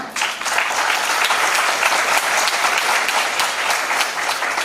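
An audience at a national seminar breaks into loud, sustained applause, a dense steady roar of many clapping hands that holds at full strength for several seconds.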